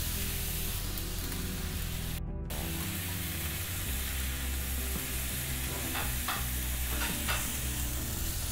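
Pasta sautéed with butter, pepper and seasoning, stirred steadily in a hot pan for white sauce pasta, giving a continuous close sizzle with scraping stir sounds and no talk.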